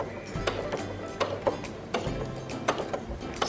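A sewing machine stitches forward for about five stitches, then backstitches through fabric while a pocket facing is sewn; steady close mechanical whirring broken by rhythmic clicks, with no talking.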